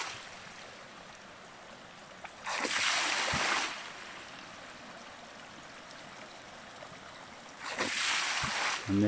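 A Bunyip water pump cycles beside the Beatrice River over a steady background of flowing water. Two separate loud whooshing surges a few seconds apart rise above the constant stream noise.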